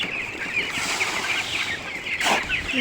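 Farm chickens in a village coop cluck and murmur steadily throughout, a busy flock heard fairly close, with a brief sharper burst near the end.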